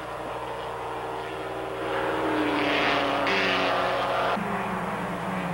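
Pack of Porsche 944 race cars from the 1986 Canadian Rothmans series climbs a hill nose to tail, engines droning and then rising in pitch as they pass, loud and fairly close.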